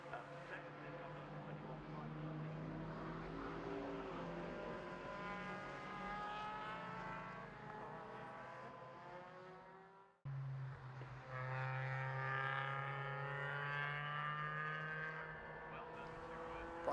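Mazda race cars in a Mazda Super Series race at Silverstone stream past, a steady droning engine roar that shifts pitch mid-way as another car takes over, heard from a distance under commentary.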